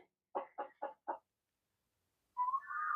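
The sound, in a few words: chickens clucking in a backyard coop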